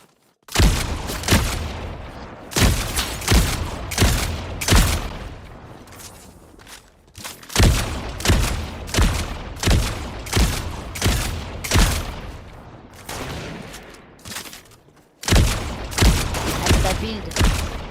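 Sniper rifle shots crack repeatedly in a video game: sharp, loud reports with short gaps and rhythmic thumping between them, while players talk.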